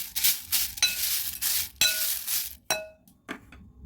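Sugar being stirred into a cornflakes mixture in a metal vessel, a spoon scraping in several swishing strokes with sharp clinks against the sides, close and loud, then tapering off.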